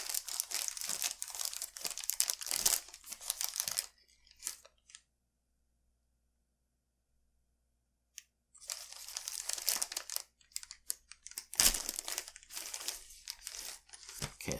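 A plastic token bag from a board game box crinkles and rustles up close in busy, crackling bursts. A few seconds of silence fall in the middle before the crinkling resumes.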